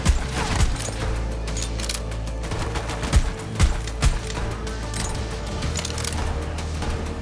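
Rapid bursts of gunfire from Borderlands 3 crackle continuously, with several louder sharp shots standing out above a dense, busy combat backdrop.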